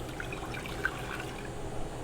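Liquid splashes and trickles into a cooking pot in a kitchen, a soft, continuous pour heard faintly and alone, with no talk.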